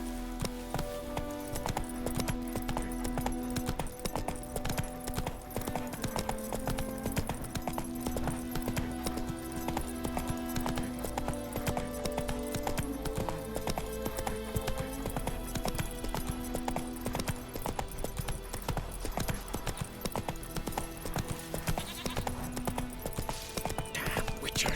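Horse hooves clip-clop in a steady, continuous rhythm while riding in The Witcher 3, under a bed of game music with faint voices.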